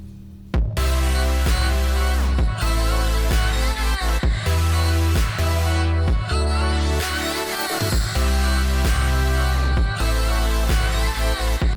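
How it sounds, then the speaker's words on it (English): Loud EDM drop from a remix in progress, pounding bass and kick pulses in a steady four-on-the-floor pattern under dense bright synths, starting abruptly after a short silence and running continuously without talk. "So the drop to this song sounds like this."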